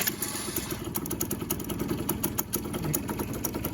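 A scooter engine with its belt cover off starts and settles into a quiet, rapid clattering idle, a steady fast mechanical ticking that runs throughout with no talking.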